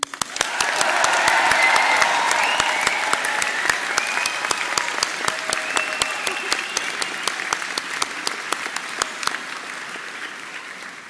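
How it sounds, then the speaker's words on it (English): Graduation ceremony audience breaking into loud, sustained applause with cheers and whoops, a dense clapping roar that swells early and holds for about ten seconds before easing slightly. "And even louder cheers and whoops."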